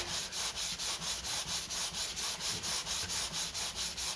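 Steady rhythmic scraping of a sanding block rubbing back and forth over a damaged wooden baseboard, about four strokes per second, close and continuous.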